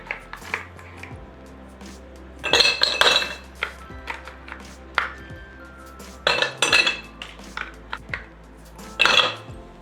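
Ice cubes dropped into a glass while making orange iced tea, giving several bright clinking bursts in close succession, with quieter clinks and knocks between them.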